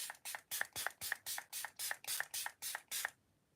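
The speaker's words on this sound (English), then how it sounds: "it's the Encore Miracle Flawless setting spray" Encore Miracle Flawless setting spray, decanted into a Beauty Crop bottle, is misted in about eleven quick, evenly spaced pumps, each a short soft hiss, close and quiet, with no talking.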